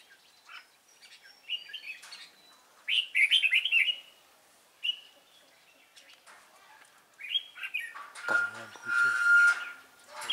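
Red-whiskered bulbuls sing outdoors at a bird trapping spot, giving repeated bright chirps and short warbled phrases in separate bursts, with a louder sustained call near the end.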